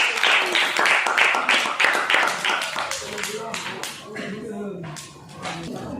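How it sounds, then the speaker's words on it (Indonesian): A classroom of students clapping hands after a group presentation, brisk, fairly close claps in a quick irregular rhythm that thin out and fade toward the end, with some voices and shuffling underneath. "Oke, tepuk tangan"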